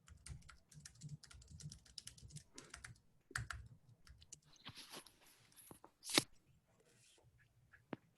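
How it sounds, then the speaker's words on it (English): Someone snacks on tortilla chips close to a microphone, with irregular soft crunches and chewing clicks scattered through a quiet room, including a couple of sharper, louder bites. "I'm eating an afternoon snack. So you guys don't want to hear me crunching my tortillas."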